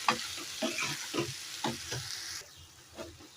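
Ground chana dal is stirred into a drumstick and cucumber mixed curry in a frying pan: about six rhythmic scraping strokes over a soft sizzle, close up and without talk.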